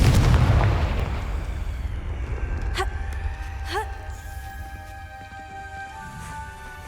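A Confringo fire spell blasts in the video game Hogwarts Legacy, opening with a loud, booming burst that slowly fades, followed by a few faint chiming tones.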